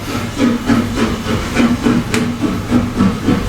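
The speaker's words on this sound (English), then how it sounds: "we have just got the train going past at the moment" A train passes in the background, a rhythmic rumble with repeated low tonal pulses, fairly loud and continuous.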